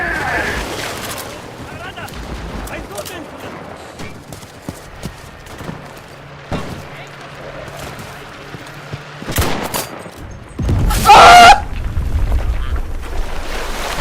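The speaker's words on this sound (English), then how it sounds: "I got the artillery guy though as he was firing the artillery." Artillery and gunfire in the video game Enlisted, with sharp bursts and booms scattered through the clip and a loud, heavy blast near the end, heard beneath a voice talking.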